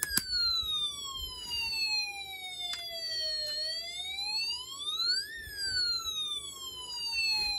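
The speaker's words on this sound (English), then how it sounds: "or a fire engine siren." A Snap Circuits electronic alarm kit sounding a fire engine siren, a loud steady electronic tone slowly sliding down, rising again and falling, continuous with no talking.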